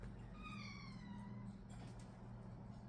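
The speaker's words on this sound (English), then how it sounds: "Oh, hold on, we get a kitty here." A house cat gives one drawn-out, wavering meow near the start. It is faint and set against a steady low hum with no talking.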